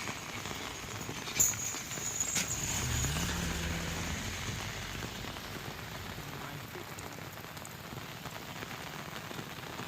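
Rain pours down steadily, a dense hiss of drops on surfaces, with a brief knock near the start and faint rumbling underneath.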